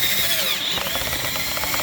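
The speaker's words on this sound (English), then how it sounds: "So what I'll do is drill it." A power drill whirs steadily at close range, boring a hole through an exterior wall, its high motor whine shifting pitch as the bit bites, with no voices.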